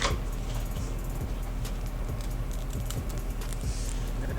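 Scissors trim the edges of a fake-scalp wig, giving a rapid run of light, close clicking snips over a steady low background hum, with no talking.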